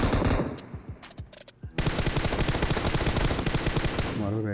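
Automatic gunfire rings out in PUBG Mobile during a duo-versus-duo match. A few scattered single shots come first, then a dense, sustained burst of rapid fire follows, loud and close, with faint talk in the background.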